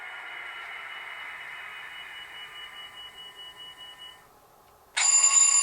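A steady electronic tone from a Rapido HO scale F40PHM-2 model locomotive with LokSound DCC sounds for about four seconds, drops to quiet, then its loud, bright ringing alarm bell bursts in and continues at shutdown.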